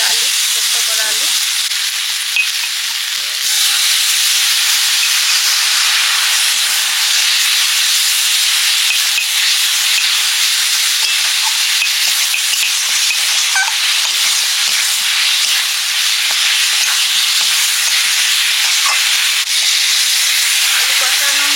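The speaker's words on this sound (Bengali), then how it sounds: "এবারে দিয়ে দিচ্ছি আলু, সেদ্ধ করা আলু।" Boiled potatoes frying in a pan of hot oil for potato curry, a loud, steady close sizzle and hiss that jumps up early and keeps going, with light stirring scrapes.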